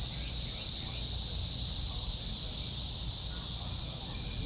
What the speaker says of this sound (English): Boy, the cicadas are loud.